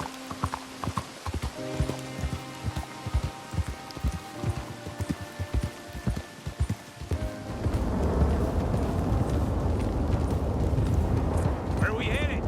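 In Red Dead Redemption 2, a horse's hooves clip-clop in a steady rhythm, heavy rain and rumbling thunder build beneath, and characters speak over the ride.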